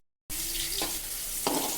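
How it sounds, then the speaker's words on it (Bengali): Coriander and fennel seeds sizzle steadily in hot oil in a pan, a bright continuous frying hiss that starts abruptly, with brief stirring clatters partway through. "ধনে আর মহুরিটা ভেজে নিচ্ছি"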